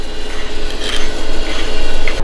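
A metal file rasps steadily against the outside edge of a flared steel tube, close and fairly loud, with continuous scraping strokes and no pauses or talk.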